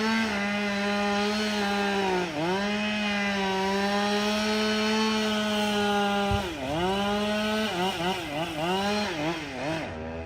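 A chainsaw cutting high in a very tall tree, about 400 feet, runs as a steady buzzing engine drone that dips in pitch several times as it bogs into the wood, loud and continuous with no talking.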